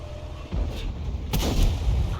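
A tank shell glances off armour in a tank video game, a sharp metallic crack and boom near 1.3 seconds amid ongoing rumbling battle noise, following an earlier thud.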